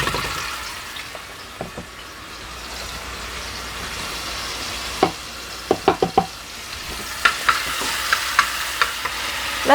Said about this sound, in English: After the oil is heated, let's put some minced garlic in it.